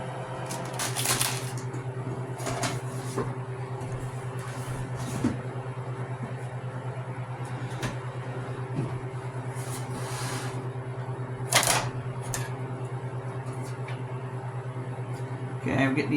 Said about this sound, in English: I'm getting these cut up with just a pair of Husky scissors